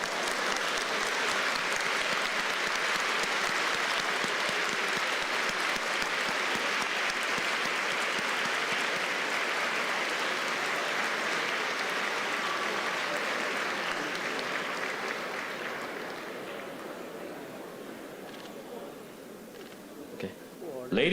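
Sustained applause from a banquet audience greeting Taiwan's President Tsai Ing-wen at the American Chamber of Commerce in Taiwan's 2023 Lunar New Year dinner, steady and dense for about fifteen seconds before thinning and fading out.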